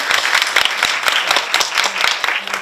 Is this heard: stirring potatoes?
no